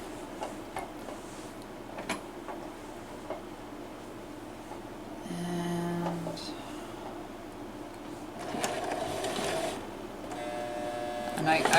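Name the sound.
sewing machine stitching purse lining seam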